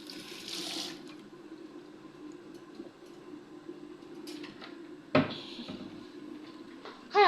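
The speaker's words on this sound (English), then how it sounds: "I'm gonna have to wash my hands again" Tap water runs steadily in a home kitchen while hands are washed during cooking, with a louder splashing rush at the start and a brief knock partway through.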